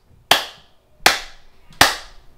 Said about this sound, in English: why did I clap my hands?